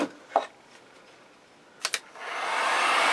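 Heat gun or hair dryer switches on to heat an object, a few soft knocks and clicks before a steady loud airy whoosh of blowing air takes over near the end.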